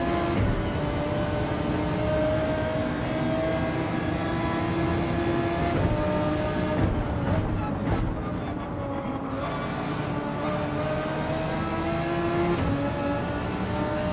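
Race cars in Gran Turismo 7 roar past on a long straight at the Nordschleife during a 24-hour race, a steady dense engine drone that swells and shifts pitch as they overtake, with no talk.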